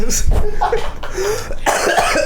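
Several harsh, close coughs in a row during a casual indoor chat, with people talking around them.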